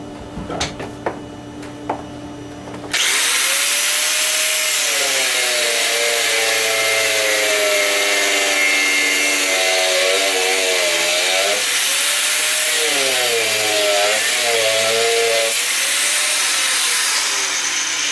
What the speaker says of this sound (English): Take a bite off of it with the DeWalt and see.